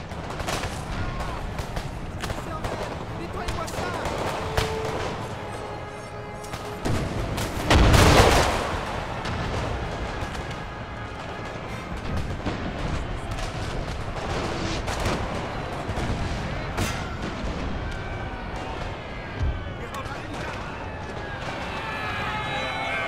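Cannon and gunfire from battlefield artillery in Napoleon Total War, a dense rumbling barrage with scattered booms and one heavy blast, running continuously under light speech.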